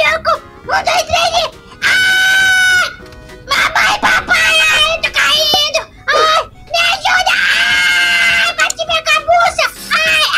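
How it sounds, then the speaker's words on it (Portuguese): A child character in GTA 5 screams and wails while tumbling down a staircase, loud high-pitched cries in repeated bursts with other voices talking between them. "Você ouviu o nosso filho gritando?"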